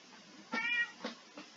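A cat in the Infitech 2 video game meows once clearly, then gives two softer, shorter meows, all fairly quiet against near silence.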